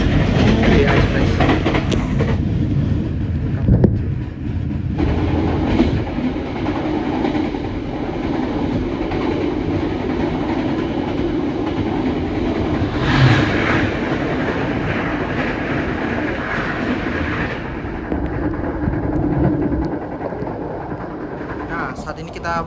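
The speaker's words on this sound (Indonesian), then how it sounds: "Saat ini kita berada di kereta yang paling belakang teman-teman. Kereta ekonomi 7." The rear economy carriage of a moving Indonesian express train on a long Surabaya–Bandung trip gives a loud, continuous rumble with rhythmic wheel clatter and occasional louder jolts, heard from inside, with people talking faintly beneath.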